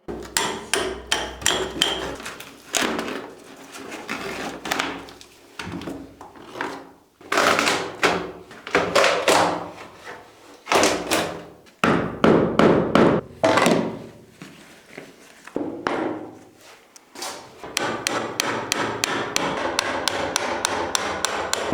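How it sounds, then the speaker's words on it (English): Repeated sharp hammer strikes on a chisel or wood, coming in irregular bursts with brief pauses, close and loud, no talking. "I also brought a hammer and chisel"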